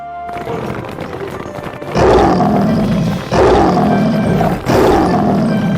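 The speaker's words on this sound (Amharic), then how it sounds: "አንበሳ ጫካውን አንድ ጊዜ በጩኸት አቀለጠው።" A lion roars in a forest, a low rumble building into three loud, drawn-out roars in succession, each deep and close with no other sounds.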